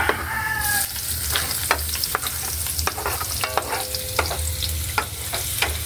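Onions sizzle and crackle in a hot pan while a utensil scrapes and stirs in irregular strokes, close and fairly loud.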